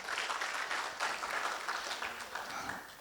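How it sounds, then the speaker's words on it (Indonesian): Audience at a seminar and talkshow clapping, a fairly faint, even patter of many hands spread across the room that continues throughout. "Tepuk tangan."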